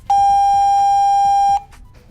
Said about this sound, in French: Le clavier confirme par un bip long.